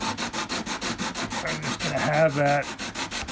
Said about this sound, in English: what I have is just a simple sanding block with 80 grit and sandpaper on it